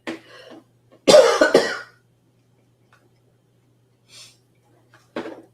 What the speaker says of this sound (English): I talk a lot and I make myself cough.